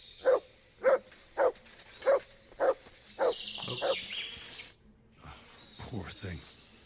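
A dog barks seven times in a steady, evenly spaced run, close and loud, followed by rustling and a few murmured game sounds, in the medieval video game Kingdom Come: Deliverance 2.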